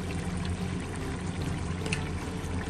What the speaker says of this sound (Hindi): तो हमने इसमें एक कप पानी का ऐड करना है